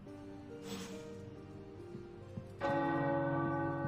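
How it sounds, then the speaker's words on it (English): Tower bells in Marvel's Midnight Suns ring out with a deep resonant toll, building from a softer swell into a loud, sustained peal with rich ringing overtones. "The tower bells are ringing."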